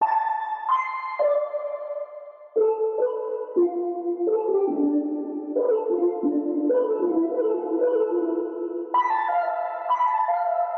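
Distant synth preset from the Bass Forge Nasko presets, a sustained melodic pad playing shifting chords and stepping note changes, smooth and continuous with a slight tonal swell, heard alone.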